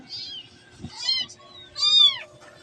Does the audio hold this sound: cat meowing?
yes